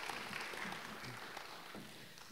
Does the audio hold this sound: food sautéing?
no